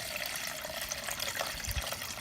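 Water poured from a full jug into passion fruit honey juice, a steady close pour with a continuous watery splash lasting a couple of seconds, no voices.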